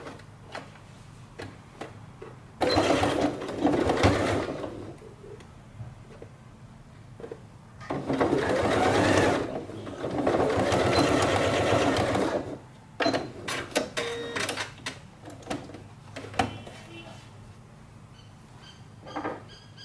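Sewing machine stitching in the ditch to attach the facing on a circle flared top, running in three loud sustained bursts separated by quieter pauses with small clicks and handling noises.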